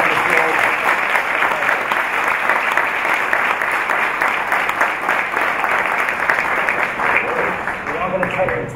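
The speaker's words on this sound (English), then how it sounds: "huge round of applause" A large crowd applauds at a live interview with Michael Phelps in Dubai, loud sustained clapping that rolls on steadily before thinning slightly near the end.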